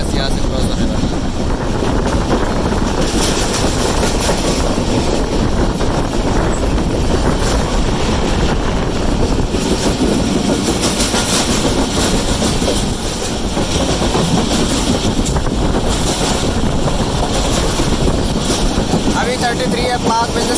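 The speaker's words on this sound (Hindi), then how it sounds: "कुछ ही देर में पाक बिजनेस एक्सप्रेस यहाँ से क्रॉस होने वाला है" Pak Business Express passenger train hauled by a ZCU30 locomotive, rolling past at good speed with a steady, loud, continuous rumble and rail noise that fills the whole stretch.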